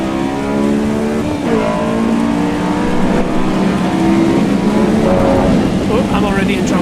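A Honda S2000 engine in the video game Assetto Corsa EVO revs hard and climbs steadily in pitch, its tone shifting sharply as VTEC engages around 6,000 rpm, loud and close throughout.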